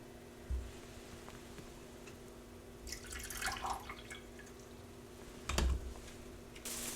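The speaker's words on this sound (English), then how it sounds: "I might pour just a little bit of it out" Water poured out of a plant pot while vegetables are being planted: a faint, brief trickle with scattered drips in the middle, and a few soft clicks and taps around it in a quiet room.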